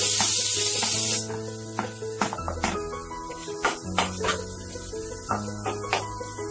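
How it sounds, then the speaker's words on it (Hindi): Chopped onion hits leftover hot oil in a kadhai with a loud sudden hiss that settles into a steady sizzle, broken by intermittent clinks and stirring knocks. "कढ़ाई में जो ऑयल रह गया है इसी में अब मैं ये प्याज डालती हूँ"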